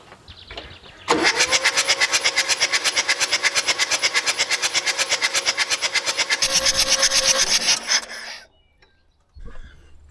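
A Kubota mini 4x4 tractor engine cranks over with its spark plugs removed: a loud, even, fast chugging starter rhythm lasting about seven seconds, rising briefly in pitch before it stops, followed by a short second burst.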